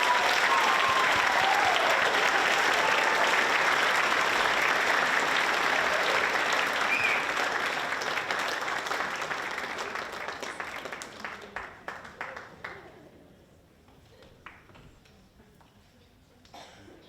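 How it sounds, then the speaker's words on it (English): Loud, sustained applause from a large audience, dense clapping filling the first ten seconds before thinning out and fading to a few scattered claps near the end. "Can we please get a massive round of applause for these two wonderful ladies?"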